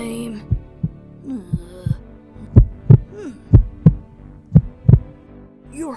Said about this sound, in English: Your heart's beating so loud.